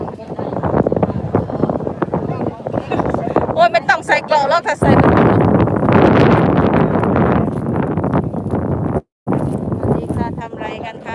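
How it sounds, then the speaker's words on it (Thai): Strong wind buffets the microphone outdoors at a Thai festival of adorned war elephants, roaring steadily with gusts and one brief drop, while people talk throughout. "ลมค่ะลม"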